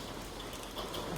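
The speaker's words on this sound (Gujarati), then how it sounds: "ઓહો, બહુ વરસાદ આવે છે, બહુ, અને ભરપૂર પાણી ભરાઈ ગયું છે ભાઈ." Heavy rain pours down onto a flooded, waterlogged road, a dense and even hiss of falling water that stays steady throughout, fairly soft in level with no talk.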